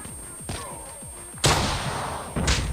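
A grenade goes off in Call of Duty with a loud, close, sharp blast partway through, followed by a second impact shortly after, over softer battlefield sounds and distant gunfire.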